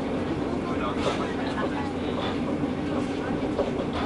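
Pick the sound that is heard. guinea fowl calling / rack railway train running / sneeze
rack railway train running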